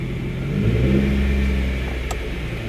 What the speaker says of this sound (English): In order to get to second gear, I'm going to step on the gas so I can pick up some speed.